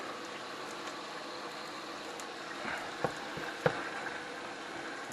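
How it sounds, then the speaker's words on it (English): Sausage sizzling and crackling steadily in a pan, a soft continuous fry with occasional small pops, no talking. "we got this here sausage cooking down"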